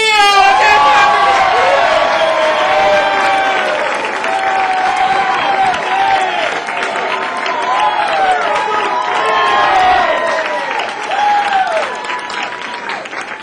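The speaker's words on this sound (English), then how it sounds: "big round of applause for Ricky Steele!" A comedy club audience at the Punchline in Atlanta, Georgia, applauds and cheers as comedian Ricky Steele takes the stage: a loud, dense, sustained wash of clapping with whoops and shouted voices mixed in, easing slightly toward the end.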